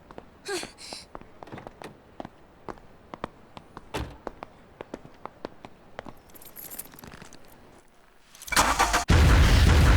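A getaway car in Yakuza 0 cranks and starts after a string of sharp clicks and footfalls, its engine bursting into a loud, close roar over the last second or so.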